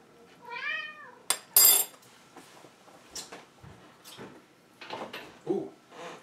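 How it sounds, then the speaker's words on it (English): A cat meows in a home kitchen where vegan stuffed peppers are being cooked, giving a clear rising-falling meow near the start, followed by sharp clatters and softer scattered sounds. "And my cat thinks she needs to be fed."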